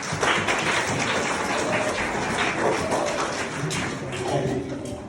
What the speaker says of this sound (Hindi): तो उनके लिए सबसे पहले तालियां।